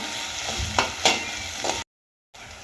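Onion, tomato, cashew, ginger and garlic sauté in a hot pan for a shahi paneer base, giving a steady close sizzle with a few stirring scrapes, then a brief silence before the frying resumes.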